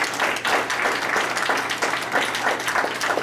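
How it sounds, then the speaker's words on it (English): A seated audience at a school board meeting in Topeka applauds the city's public school principals, a dense, steady wash of many hands clapping continuously at close range for the whole stretch. "All Topeka Public School principals, let's give them a round of applause"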